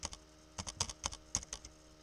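Quiet, crisp computer keyboard keystrokes land in short irregular bursts, about a dozen clicks typed close by with brief pauses and no voice.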